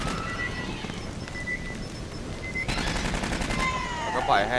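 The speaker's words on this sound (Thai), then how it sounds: "ปืนมันยิงไปครับ" Gunfire in the video game Aliens: Colonial Marines: a rapid stream of automatic shots over a noisy combat bed, with someone talking briefly near the end.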